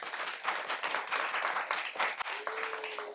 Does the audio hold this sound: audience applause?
yes